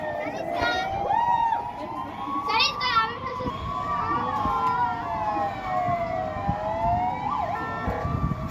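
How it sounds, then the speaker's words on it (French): Emergency vehicle siren wailing loudly and steadily in a rising and falling pattern on a street, with people talking over it and a few shouts heard in the background. "Sirène à fond, je sais pas ce qu'ils foutent."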